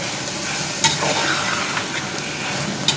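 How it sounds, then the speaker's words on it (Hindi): Sliced radish and spinach stirred in a hot frying pan, giving a steady close sizzle with soft scraping from the spoon and a few sharper clicks against the pan. "तो डाल के अच्छी तरह से मिक्स कर देंगे।"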